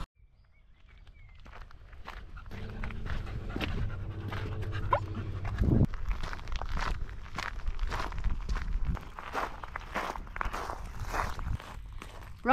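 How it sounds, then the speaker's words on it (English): A dog on a walk whimpers and pants steadily, close by, with footsteps and shuffling movement around it, the panting continuing through to the end. "with the dog that's whimpering"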